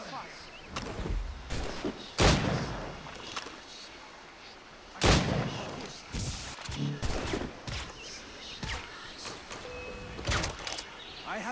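Ship cannon fire in Assassin's Creed Rogue, heavy booms landing at irregular intervals, two especially loud blasts standing out, mixed with clattering effects and occasional voices.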